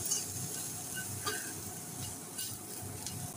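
A spoon stirs pulao masala, salt and oil in a pan, making soft, steady scraping and scuffing with a faint sizzle underneath, close and moderately quiet, with no talking.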